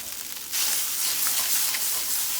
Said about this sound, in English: You'll stir it around a little bit. And this is going to start to fry.